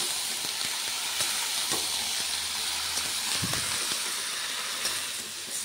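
Vegetables fry and steam in a hot pan with a steady broadband sizzle and hiss, punctuated by faint clicks of stirring throughout.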